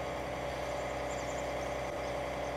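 A tractor engine idles steadily in Farming Simulator 19, a low, constant hum with a faint whir that holds even throughout, with no talking over it.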